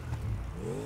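A car engine in GTA 5 revs up in a brief, steady whir that rises in pitch toward the end, heard alone without talk.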